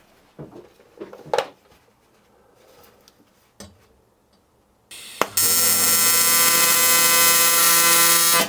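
A TIG welder at 200 amps tacks an aluminium plate onto a Rover manifold: a few clanks and handling knocks, then a sudden loud, steady, high-pitched arc buzz that holds strongly for about three seconds before cutting off.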